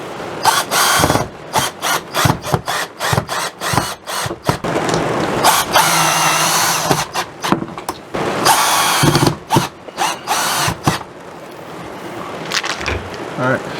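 A power drill drives screws into a broken BAL Accu-Slide gearbox, giving a rapid series of short whirring bursts with pauses between them, close and loud, and a few longer steady runs in the middle.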